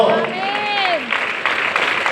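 Applause from a crowd, steady broadband clapping for a couple of seconds, with a voice briefly audible over it at the start.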